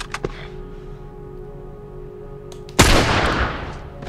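A newly picked-up shotgun in The Last of Us, fired in a flooded subway, lets out one sudden, very loud blast that rumbles and decays over the next second, after a couple of faint clicks; no voices.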